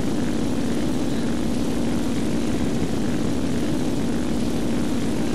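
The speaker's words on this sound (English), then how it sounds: "So I come over to see if I can help Power Tank out in this P-40" A P-40 propeller fighter in a flight video game drones steadily in flight, a constant engine hum and airscrew roar holding the same pitch throughout with no voices.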